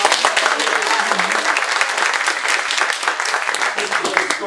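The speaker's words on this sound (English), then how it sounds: "A round of applause for Scott." An audience at a puppet slam performance applauds a volunteer from the crowd, loud, busy clapping that holds steady for several seconds, with voices mixing in.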